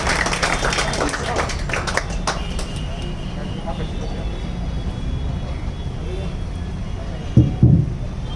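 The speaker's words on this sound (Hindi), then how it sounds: "जोरदार तालियों से स्वागत करें जॉइंट सीपी सर का।" An audience claps to welcome a Delhi Police Joint Commissioner onto the stage at a police public library event. Scattered hand claps ring out for the first couple of seconds, then thin out into a quiet room with a few near thumps at the end.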